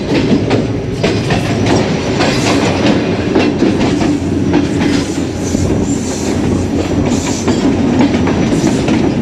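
A passenger train rolls along rails between Landhi and Padidan junctions in Sindh, giving a loud, steady rumble with continuous clickety-clack wheel beats and faint squeals, heard close from on board, without talk.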